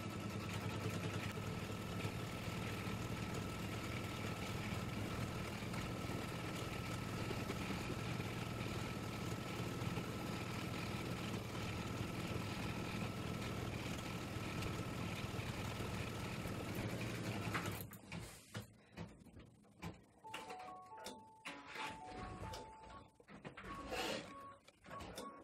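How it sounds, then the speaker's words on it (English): An embroidery machine stitches an applique outline around a snowflake shape in a steady, loud, close whirring drone for about eighteen seconds, then falls to quieter, intermittent mechanical clicks and brief tones. "the machine is going to stitch all the way around"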